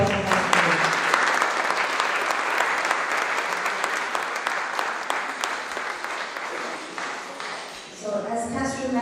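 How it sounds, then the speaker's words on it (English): Sustained, dense applause from a large audience at a festival opening ceremony, steady and loud for most of the stretch, fading slightly near the end before a voice begins speaking over a public address. "So can we have a round of applause for Qaisra?"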